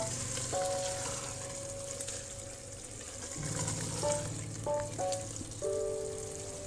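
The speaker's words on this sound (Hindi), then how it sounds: "अब हम इसकी भुनाई करेंगे।" Fenugreek leaves and potatoes sizzle steadily in a pan for methi aloo, a soft continuous frying hiss with faint clinks of a stirring utensil, heard up close with no talking.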